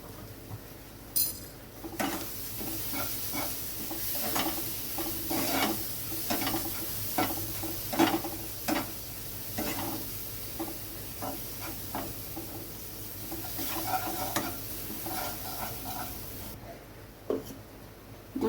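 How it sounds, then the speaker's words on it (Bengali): Ground spices with a little black pepper powder fry in a pan, giving a steady sizzle broken by repeated scraping strokes of a spoon stirring, close and fairly loud with no talking. "মশলাটা ভাজা হয়ে গেছে।"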